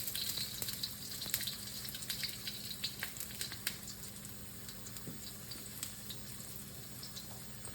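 Ginger frying in oil in a wok, a continuous soft sizzle with scattered sharp crackles and pops, fairly quiet and steady, with no voices.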